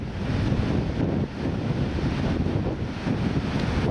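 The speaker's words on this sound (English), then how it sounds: "Quite windy out here." Strong wind buffets the microphone along the shore at Arno Bay, a steady broadband roar with surf mixed in, loud and continuous with a brief dip partway through, no voices.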